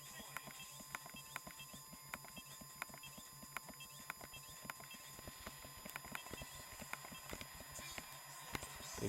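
Galloping racehorse hooves from the Gallop Racer horse racing video game, a steady rapid clip-clop rhythm running throughout over a busy, constant game-audio backdrop with voices present.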